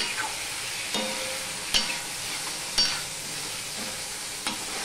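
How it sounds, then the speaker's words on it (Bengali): Papaya and boiled chickpea dal being sautéed with sugar in a pan for a vegetarian Bengali dish, giving a steady soft sizzle broken by a few sharp spatula scrapes and taps against the pan, with no talking. "চিনিটা দিয়ে আমি একটুখানি কষিয়ে নিলাম।"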